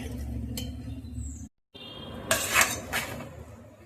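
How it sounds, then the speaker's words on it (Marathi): Lime and chilli pickle spooned into a glass jar, giving soft clinks and scraping of a spoon against glass in a few short bursts, fairly close and quiet. "आता मी यामध्ये लोणचं भरून घेते"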